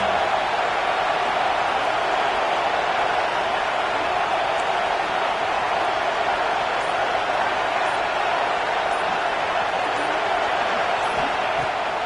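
A stadium crowd roars for the defense on third down at an LSU vs Michigan football game, a constant broad wash of cheering that stays loud and unbroken throughout.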